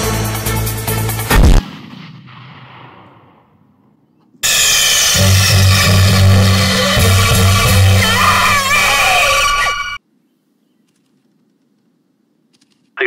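Video game explosion after a warning call, a loud sharp blast at the start that decays into rumble, followed after a pause by a long roaring burst of fire and debris, then silence.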